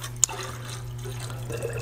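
Water is poured from a jug into the priming port of a jet pump line, giving a short, soft splash and trickle over a steady low hum, with one sharp knock near the start.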